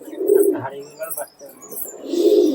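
Desi Murshidabad pigeons coo close by in a loft: low, throaty rolling calls that swell at the start and again at the end, with soft chirps in between.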